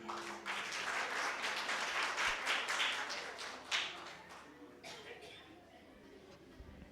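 A church audience applauds in a sustained, dense wash of clapping that swells and then slowly fades, fairly distant and soft, with faint voices underneath.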